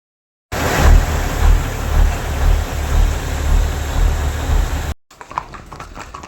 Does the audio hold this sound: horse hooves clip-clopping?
yes